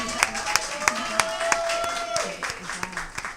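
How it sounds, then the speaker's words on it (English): A live audience at a late-night show gives a guest a round of evenly spaced, rhythmic claps that soften toward the end, while a voice talks over the clapping. "Give a round of applause."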